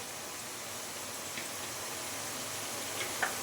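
Nimki fry in hot oil with a steady soft sizzle and hiss, faint and even throughout, broken by a couple of tiny pops near the end, without anyone talking.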